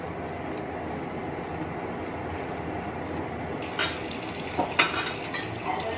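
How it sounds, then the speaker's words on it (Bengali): Fried katla fish pieces are stirred into yogurt gravy in a pan, a low steady simmer with a few metallic clinks and scrapes of the spatula toward the end, fairly quiet and without voices. "মাছগুলো দিয়ে একটু নেড়ে চেড়ে দিচ্ছি গ্রেভির সঙ্গে"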